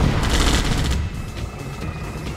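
Dense, continuous gunfire rattles from massed units in a Red Alert 2 real-time strategy battle, loud overlapping shots and bursts filling the whole stretch with no pause.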